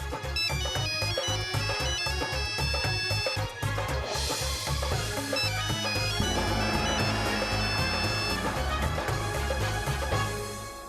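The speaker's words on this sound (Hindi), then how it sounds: "ये तो इनका रिंगटोन है।" A melodic phone ringtone plays loudly and continuously, a bright repeating tune with a steady beat that fills the whole stretch before fading slightly at the end.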